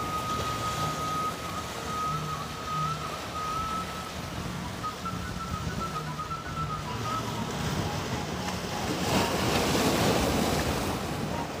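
Large ocean waves break on a beach at Binuangen, a steady roaring surf with wind noise that swells louder near the end, with no talk.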